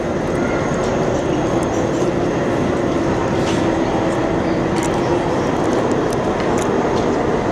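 A continuous loud rumble of a train rolling past at a station in Hamburg, Germany fills the clip, steady and close, with faint clanks and hiss on top.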